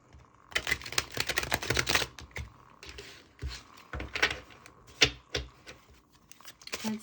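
A Heavenly Bloom tarot deck is shuffled by hand in close, crisp bursts of papery riffling and card slaps, dense at first and then in short separate flurries, with no talking.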